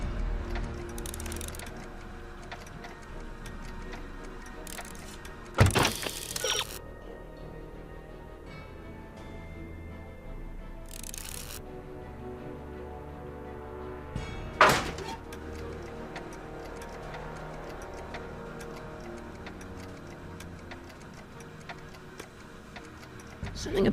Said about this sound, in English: Something about that clock looks familiar.